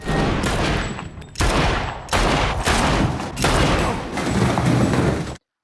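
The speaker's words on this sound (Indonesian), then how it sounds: "Sterling dan Cody terlibat baku tembak" A movie shootout fills the scene with loud, dense bursts of gunfire, several heavy volleys separated by brief gaps, before the sound cuts off abruptly.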